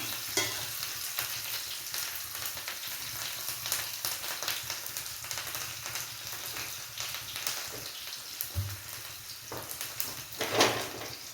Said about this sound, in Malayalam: ഉള്ളിയും ജീരകവും കറിവേപ്പിലയാണ് ഇടുന്നത്.